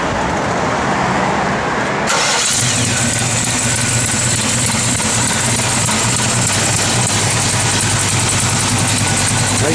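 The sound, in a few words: 1967 Chevrolet Chevelle SS engine idling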